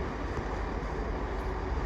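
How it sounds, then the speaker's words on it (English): A Grand Central passenger train rolls into Doncaster station on the East Coast Main Line. Its steady, loud, broadband rumble holds throughout with no voices. "Coming in now is the 1204 Grand Central service from Retford Interchange to London King's Cross."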